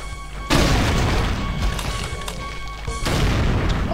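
Loud gunshots and booming explosions in Brutal Doom, with a heavy blast cutting in sharply, sustained rumbling fire, then a second hard blast near the end.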